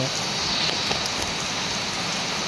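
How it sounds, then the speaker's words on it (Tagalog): Steady, dense rain pouring down close by, a constant wash of hissing patter with no pauses. "Lumakas na yung ulan dito."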